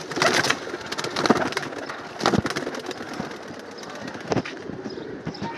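Pigeons coo and flutter inside a loft, with repeated close bursts of wingbeats and scuffling over a soft background of calls.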